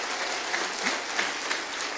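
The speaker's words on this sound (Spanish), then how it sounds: "Dale un aplauso más fuerte al Señor." Church congregation applause rings out as a steady, fairly distant wash of clapping, with a few sharper individual claps standing out.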